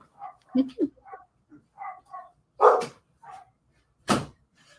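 Dogs bark in a few short, close, sharp bursts amid quiet gaps, with small yips and whines between them.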